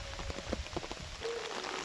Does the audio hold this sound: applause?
no